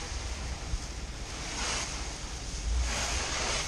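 A garden hose nozzle set to shower mode sprays water over a car that is dirty after days of rain, making a steady, close, broadband hiss that swells a couple of times, with no talking.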